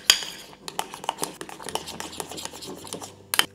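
A small utensil clinks and scrapes against a bowl while Swiss meringue buttercream is stirred with a toothpick. The taps come in quick irregular bursts, close by and quiet, with no talking.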